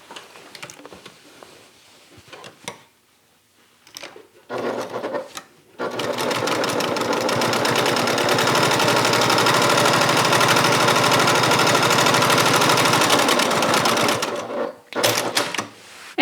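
A sewing machine stitches the bottoms of a fabric bag together, running in a loud continuous rapid whir for about eight seconds after a few short starts, then stopping and giving a last brief burst.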